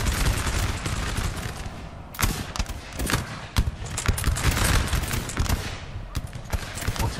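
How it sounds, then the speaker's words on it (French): Musket volleys and artillery crackle and thump in the video game Napoleon Total War, covering the Borodino battle of the 1812 Russian campaign, with dense, irregular overlapping gunfire and occasional heavier booms throughout. "Ça tire bien quand même, il y a l'artillerie qui est bien placée"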